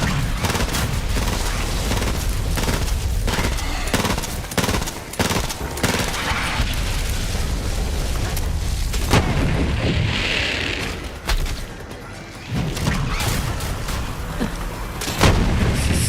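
Dense, loud gunfire from the 9 Years of Shadows game, with rapid shots and heavy booms packed together almost without a break and only brief dips in the barrage.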